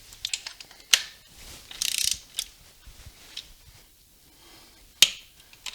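A ratchet snugs the primary cover bolts on a Harley-Davidson Softail during reassembly, giving a few sharp close clicks and a short burst of rapid pawl ratcheting, separated by quiet gaps.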